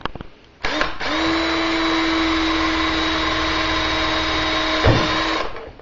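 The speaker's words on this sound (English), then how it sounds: "you want to make sure that the drill is properly centered in the middle of the disc of where you want to drill" A power drill bores through a plexiglass cover for a Mortal Kombat arcade game, a steady close whine holding for about four seconds before cutting off, with no talking.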